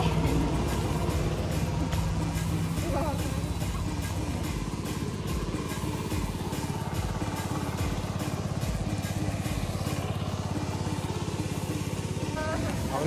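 Tractor engine chugging steadily in a rice paddy at planting time, a loud, continuous rumble running throughout with people talking over it.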